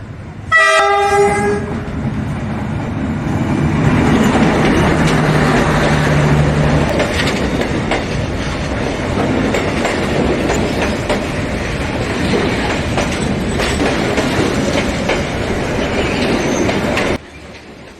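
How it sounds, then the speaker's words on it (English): A massive old freight train, likely led by a Class 66 locomotive, opens with a loud horn blast and then rolls through steadily, its wheels clattering and squealing for about fifteen seconds before the sound cuts off. "that massive old train rolls through, then slips right back into its usual routine"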